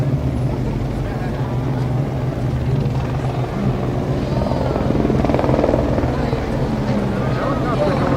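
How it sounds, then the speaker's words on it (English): A helicopter passes overhead during a Fourth of July parade in Plattsburgh, its steady rotor drone loud throughout while people talk beneath it. "Helicopter going overhead."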